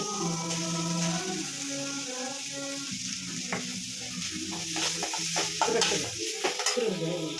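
Bitter gourd curry ingredients sautéing in a pan, a steady sizzle with scraping stir strokes that grow busier toward the end, a low voice murmuring briefly underneath near the start.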